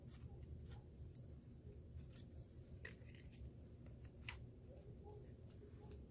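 Scissors cut paper to make a circled flower shape: a few faint, crisp snips stand out over a quiet, low room hum.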